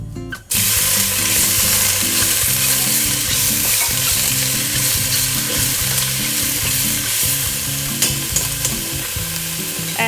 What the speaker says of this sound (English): so add some oil to your pan. I'm starting with the mushrooms because they were canned